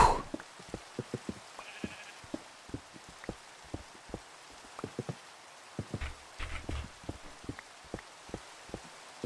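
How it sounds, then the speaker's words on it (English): Sheep in a video game bleat in short scattered calls amid a patter of light clicking taps, all fairly faint and spread across the stretch with no voices. "that sheep was getting up in my face"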